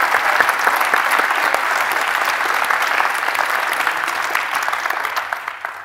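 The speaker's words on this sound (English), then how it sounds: "I think another round of applause for Team Gregg and Team Steve." Loud, dense applause from a conference audience in a plenary hall for two competing teams, sustained at full strength before gradually thinning and trailing off near the end.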